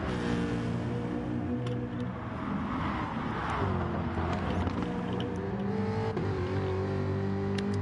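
Racing engine of a Ford Mustang Gr.4 car in GT Sport at the St Croissant circuit, a loud sustained harmonic drone that climbs and shifts pitch as the car accelerates down the straight, with other cars close by.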